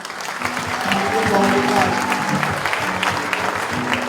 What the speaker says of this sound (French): Applaudissez pour la guérison.